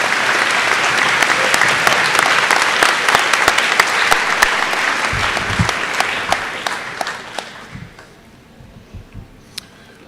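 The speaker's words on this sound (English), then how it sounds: "Please join me in a round of applause as we celebrate these outstanding Titans." Audience applause fills a high school graduation ceremony, a dense sustained clapping from a large crowd that gradually thins out and fades toward the end, leaving scattered claps.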